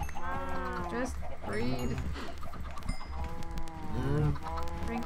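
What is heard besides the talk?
cows in the video game Minecraft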